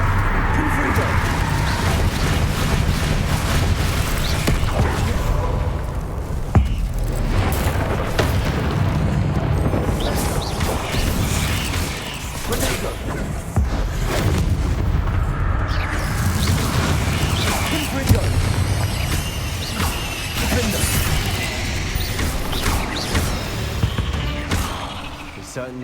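Confringo fire blast spells in Hogwarts Legacy, a continuous loud battle din of fiery blasts, booms and crackling effects, with scattered voices shouting underneath.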